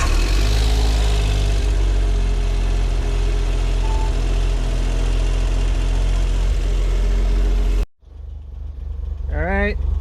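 A Suzuki Autozam AZ-1 engine runs at a steady, loud idle with a constant low drone, then cuts out abruptly near the end and cranks again as the starter whirs back up.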